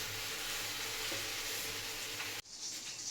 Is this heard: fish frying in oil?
yes